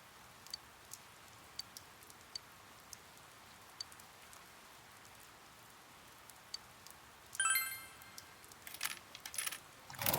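A capsule machine in the video game Persona 4 Golden gives a string of faint, sparse clicks and ticks, then a louder rattling, clattering burst near the end as a capsule drops out.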